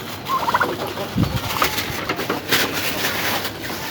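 Turkeys gobble in repeated bursts from close by, with other bird calls scattered in the background.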